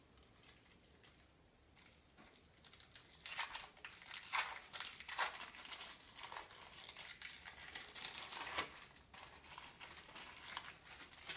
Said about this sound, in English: peel the plastic back so it separates, and unwrap the plastic from around the cheese